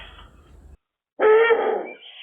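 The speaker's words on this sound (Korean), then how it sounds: "암수의 울음은 오늘도 여전한데" A Eurasian eagle-owl calls near its breeding site, a faint low hoot followed after a short silence by a louder, harsher, drawn-out call.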